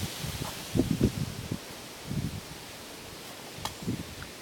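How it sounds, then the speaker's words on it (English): Wind buffets the microphone in a garden yard with roses, coming in low, soft rumbling gusts, a few stronger puffs standing out against steady background noise. "we're hearing some wind noise now"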